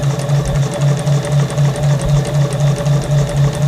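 A sewing machine stitches the quarter-inch seam of a Karen Montgomery Tucked In tote bag, running with a steady, fast motor hum and a regular pulsing rhythm, close and fairly loud with no talking.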